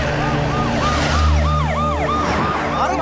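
An ambulance siren wailing close and loud in traffic during a hospital emergency, its rising and falling tone repeating rapidly over a low vehicle engine rumble.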